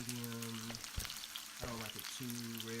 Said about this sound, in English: putting the butter and letting it fry in the butter for another minute or two